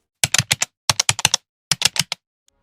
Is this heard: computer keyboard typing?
yes